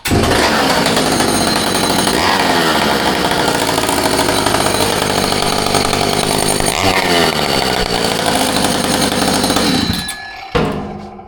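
A Rancher chainsaw fitted with a homemade custom exhaust pipe built for a 6.6 roars loud and close, holding a raw, buzzing high rev for about ten seconds before cutting off abruptly.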